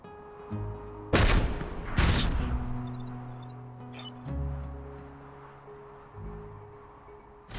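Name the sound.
weapon shooting a scarab in video game Into the Breach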